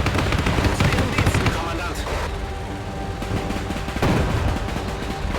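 Machine gun fire in the World War II strategy game Men of War 2, with loud rapid bursts and scattered shots over a battlefield din, pausing briefly before another burst.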